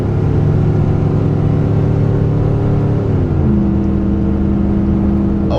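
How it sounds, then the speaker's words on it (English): A Dodge Ram 1500 with the 4.7L engine and a nearly straight-piped exhaust drones loudly and steadily under acceleration, and its engine note drops partway through as it downshifts. "It downshifted real nice, made a ton of noise from our pretty much straight piped exhaust."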